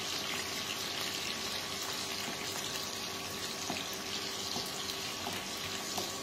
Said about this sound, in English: Fry it till become translucent.